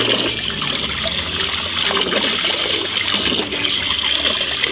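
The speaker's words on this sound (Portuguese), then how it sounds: "A torneira aqui é bem forte." Strong tap water gushing onto a rugged Umidigi Bison GT phone held under the stream, a loud, steady splashing rush that runs on without a break.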